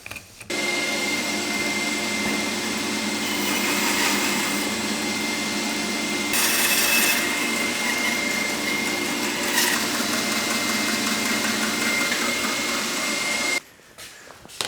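A bandsaw cuts a rough log into sections, removing limbs, a steady loud whirring drone with the blade noise rising briefly during cuts, running alone and stopping near the end.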